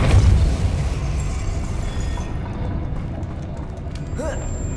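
A Depulso force blast cast in the video game Hogwarts Legacy: a heavy, rumbling burst at the start that eases into a steady, softer wash of noise.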